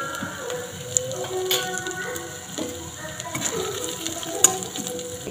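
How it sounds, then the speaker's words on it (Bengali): Ginger and black cumin fry in a pan with a moderate crackling sizzle, broken by occasional scrapes and clinks of stirring, close and steady throughout. "আদা আর কালো জিরেটা ভালো করে একটু ভেজে নিলাম"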